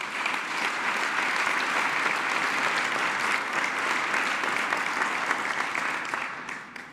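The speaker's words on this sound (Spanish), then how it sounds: "Un aplauso también para todos ellos." Sustained applause from a seated audience for cabinet members at a formal minimum wage announcement, a dense, even clatter of clapping that holds for several seconds and then tapers off.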